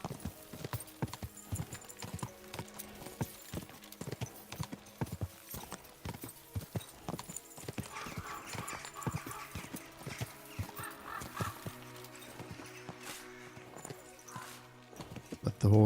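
Horse hooves clip-clop steadily through Kingdom Come: Deliverance II gameplay, a continuous rhythmic gallop with occasional neighs, a voice calling out over it.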